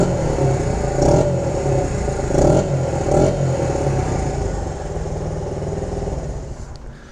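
A 1979 Honda XR80R motorcycle engine runs steadily up close, with a few brief revs swelling over a constant mid-pitched drone before easing off slightly toward the end.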